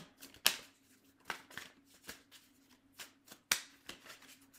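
Tarot cards are shuffled close up during a reading, giving a series of crisp riffles and slaps in irregular bursts, quiet between strokes.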